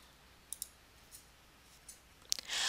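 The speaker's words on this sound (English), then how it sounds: "and then click Add" Quiet mouse clicks on the Add button in Moodle, a few faint, sharp taps scattered across an otherwise silent stretch, ending in a soft rush of noise.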